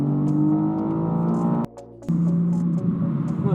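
Engine note of a BMW M4 Competition xDrive Convertible with a B58 engine, a steady droning hum under acceleration that breaks off briefly at a shift and then resumes at a lower pitch, heard from inside the car.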